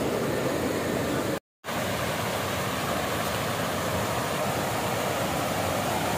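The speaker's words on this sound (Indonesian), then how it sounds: "Nah ini dari Curug Cileat atau Sungai Cileat dari hulunya itu ya." River water flowing from the Curug Cileat waterfall, heard as a loud, continuous broadband rush that stays steady throughout apart from one brief cut to silence.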